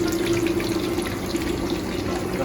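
Tempura frying in hot oil for Japanese tempura udon, a close, continuous bubbling sizzle that holds steady throughout with no talk.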